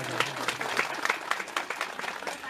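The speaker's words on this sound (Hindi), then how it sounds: "उनके लिए एक बार जोरदार तालियां हो जाए।" Village audience at a puja ceremony breaking into a brief burst of applause, dense rapid clapping from a nearby crowd, moderately loud, filling the whole moment.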